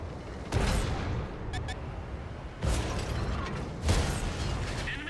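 Tank cannon shots in World of Tanks, three heavy booming blasts spaced about a second and a half apart, each with a crackling tail, over a steady engine and battle rumble.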